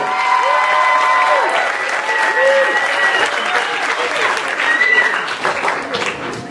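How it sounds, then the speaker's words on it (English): A stage audience claps steadily for a performer named Leo, loud continuous applause with scattered whoops and cheers riding on top throughout. "Clap for Leo."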